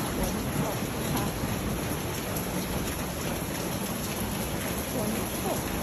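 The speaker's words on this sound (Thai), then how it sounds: "วันนี้ฝนตกค่ะ" Steady rain pours down outdoors in a Thai garden, a dense, even hiss of drops on leaves and surfaces running unbroken throughout, with no voices.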